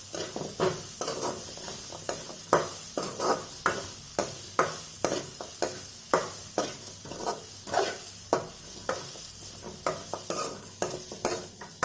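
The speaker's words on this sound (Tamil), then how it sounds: "தேங்காய் கலர் மாறுற வரைக்கும் நல்லா வதக்கிப்போம்." Coconut being sautéed in a pan for mushroom kurma, with a steady stirring scrape repeating every half second or so over a soft continuous sizzle, close and fairly loud, no voices.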